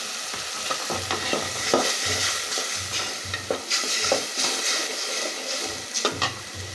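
Ginger garlic paste sizzles steadily in a pan while a spoon stirs it in repeated scraping strokes, close and clear with no talking, as part of cooking chicken with bottle gourd.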